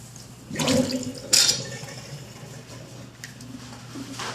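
A spray bottle is filled with homemade stain remover solution at close range, a short burst of pouring and bubbling liquid followed by a sharper splash, then quieter fizzing and settling under a faint background hum.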